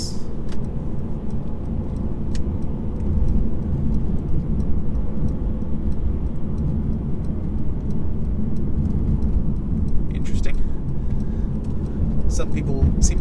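Cabin sound from a 2019 Mercedes C300 on the road, a steady low engine and road rumble with tire noise that holds even throughout, plus occasional faint ticks and clicks inside the car.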